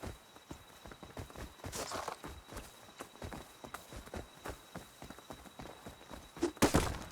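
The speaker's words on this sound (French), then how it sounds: "Viens là le cheval." Horse hooves clip-clopping in the survival game Rust, a steady run of footfalls at close range with occasional heavier thumps and a brief louder burst near the end.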